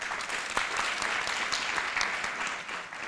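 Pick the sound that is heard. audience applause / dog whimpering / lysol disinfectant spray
audience applause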